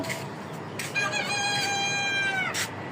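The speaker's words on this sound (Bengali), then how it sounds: "মুরগিগুলো অনেক সুন্দর করে আওয়াজ দিচ্ছে" Chickens on a rooftop in the afternoon give a drawn-out crow-like call lasting over a second, with softer clucks around it, fairly close and clear over light background noise.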